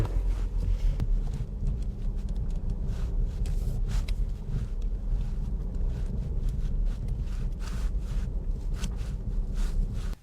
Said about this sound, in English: Driving into the forest.